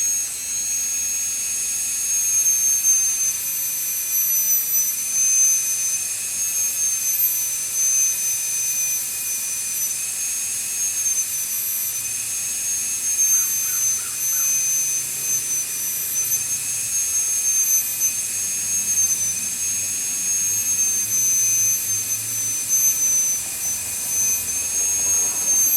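A small rotary cutter engraving a name into a pierced metal piece, giving a steady high-pitched whine like a dental drill that holds near and constant throughout with no talking.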